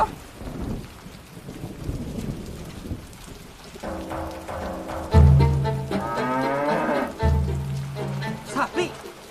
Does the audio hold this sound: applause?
no